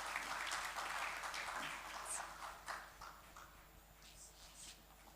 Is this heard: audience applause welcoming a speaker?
yes